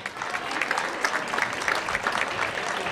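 Audience at an awards event in the Riviera Domitia area clapping, a dense, lively burst of applause from a crowd, loud and sustained for the full few seconds.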